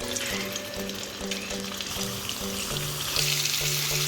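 Whole eggs fry in a pan with salt and turmeric, a close steady sizzle with crackling pops and occasional stirring, plus a faint tonal hum in the background.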